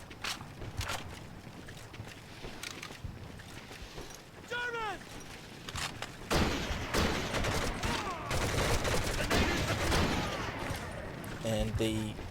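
Pistol shots crack repeatedly in Medal of Honor: Heroes, sharp reports scattered across the clip amid game ambience, footsteps and background sounds, with talking underneath.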